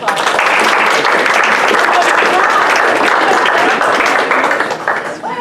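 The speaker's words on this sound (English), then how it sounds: "can we get a big round of applause?" A big round of applause from the audience at a Plan Hillsborough institutional knowledge session, loud dense clapping that holds steady and tapers near the end.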